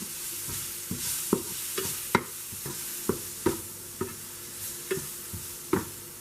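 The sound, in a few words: stirring red chili powder and salt into bitter gourd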